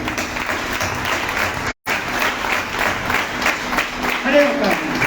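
Congregation at a church seminar on Christology giving loud, sustained applause that breaks off briefly and then resumes, with a voice speaking over the clapping near the end.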